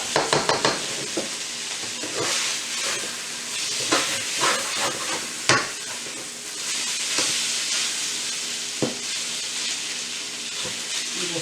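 Diced potatoes browning in a pan for vegetable lumpia, a soft steady sizzle broken by repeated scrapes and taps of a spatula as they are spread and turned.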